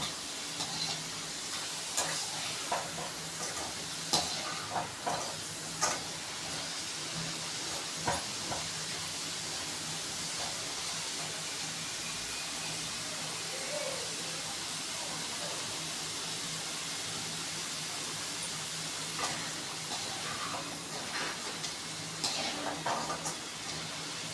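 Sliced potatoes deep fry in hot oil for crispy French fries, producing a steady, dense sizzling hiss with occasional louder crackles and pops throughout.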